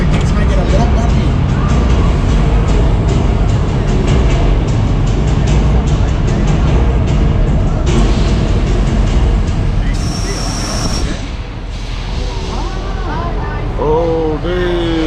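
A Universal Studios tour tram rumbles and rattles loudly as it rolls along, with people talking over the constant ride noise.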